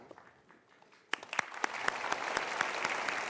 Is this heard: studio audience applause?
yes